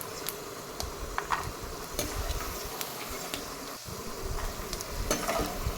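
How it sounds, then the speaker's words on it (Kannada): Peanuts fry in oil with a soft, crackling sizzle, scattered ticks and pops over a low bubbling bed, close and moderately quiet with no talk. "ಕಡಲೆ ಬೀಜನೂ ಕೂಡ ನೀಟಾಗಿ ಕ್ರಿಸ್ಪಿಯಾಗಿ ಫ್ರೈ ಆಗೋವರೆಗೂ ಇಟ್ಕೊಂಡು"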